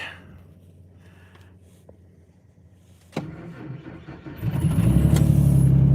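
A pickup truck's engine cranks and catches at about three seconds on a gloomy, snowy day, then settles into a loud, rising, throaty run that grows heavier toward the end, preceded by quiet outdoor ambience.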